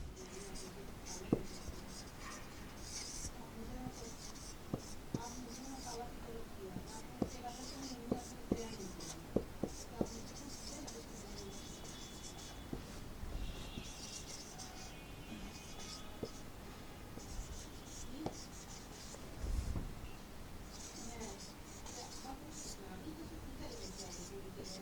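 A pen or pencil scratches across paper in short bursts and pauses as Bengali verse is written out by hand, close but soft, with a few sharper taps among the strokes.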